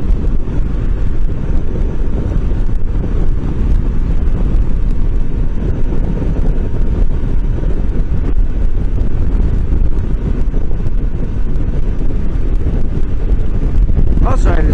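Steady, loud wind buffets a camera microphone while a Honda CB500X motorcycle is ridden, a continuous low rushing roar with no pauses and the engine buried beneath it.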